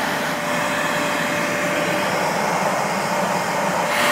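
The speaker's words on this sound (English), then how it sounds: "If you're ever making a bee busting vacuum cleaner, don't suck up the honey" A bee vacuum sucks bees out of a tree stump, a steady, loud, close whooshing hum with no talk.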